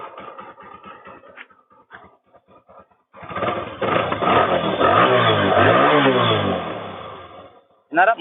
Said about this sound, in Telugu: ఇప్పుడు ఇంజిన్ బీటింగ్ అయితే వినండి ఒకసారి